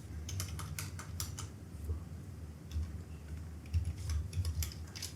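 Keys on a computer keyboard clatter in quick bursts as someone types data into a spreadsheet, with soft close clicks, short pauses and faint background hum.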